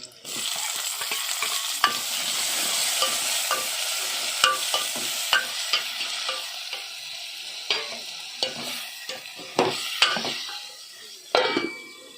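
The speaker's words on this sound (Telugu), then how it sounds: "ఉల్లిపాయలు అయితే బాగా బ్రౌన్ కలర్ వచ్చినాక వేగినాయి ఇంకా తరిగిన టమాటాలు పచ్చిమిరగాయలు వేస్తాము" Onions fry to brown in a pan, then chopped tomatoes and green chillies go in, with steady sizzling broken by repeated stirring scrapes and spoon clinks against the pot, close and fairly loud throughout, with no talking.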